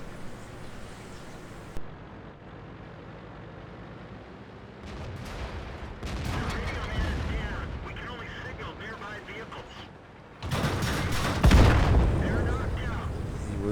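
A VK 16.02 light tank fires its gun in a World of Tanks battle on the Sand River map, with sharp booms and heavy rumbling in the later half, a loud blast near the end under a noisy battlefield mix.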